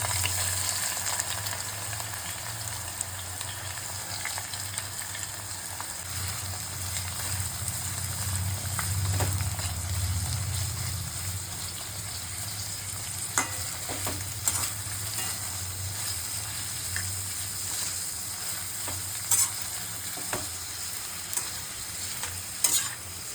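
Chopped onion fries in hot mustard oil with whole spices, giving a continuous close sizzle with occasional stirring scrapes and pops. The sound is fairly loud and steady and has no talk.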